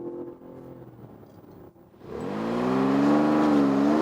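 A 2026 Dodge Charger Sixpack with the high-output 3-liter straight six engine, idling and then revving up into a loud, rising engine roar under hard acceleration.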